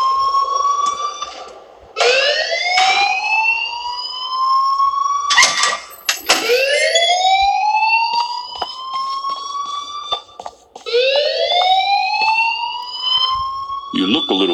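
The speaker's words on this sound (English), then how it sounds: "please turn off that alarm since that's your job" A fire alarm in the video game Life is Strange sounds loud and close with repeated rising electronic whoops, each sweep climbing in pitch and restarting every few seconds, with brief clattering bursts between cycles.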